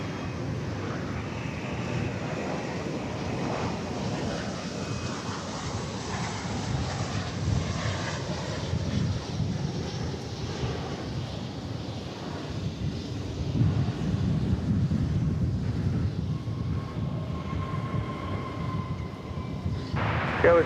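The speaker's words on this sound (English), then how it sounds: "Coming in from Tulsa, Oklahoma is American Flight 882, a 737-800." An American Airlines Boeing 737-800 arriving from Tulsa lands at DFW Airport, its engine roar a broad, steady rumble at moderate distance that swells slightly toward the end, with wind noise and no talk.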